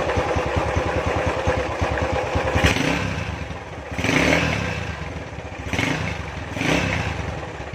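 A Honda Tiger motorcycle engine runs close by with a rough, clattering rattle and heavy vibration, rising in several revving swells over its steady chug.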